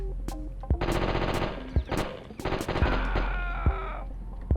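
Rapid bursts of automatic gunfire in the PS1 game Die Hard Trilogy rattle in long strings, with a few sharper single shots and brief gaps between volleys, loud and close.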